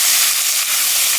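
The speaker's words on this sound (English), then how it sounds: "I'm gonna get the cast iron so hot that when you put the skirt steak on it, it sizzles" Loud, steady sizzling hiss fills the clip, bright and close, as skirt steak sears on a very hot cast iron pan.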